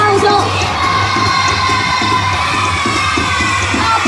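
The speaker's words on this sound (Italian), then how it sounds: "Pronti con l'applauso!" A large crowd in a town square cheers, with children shouting, in a loud continuous roar. Rhythmic clapping pulses through the din, and music plays underneath.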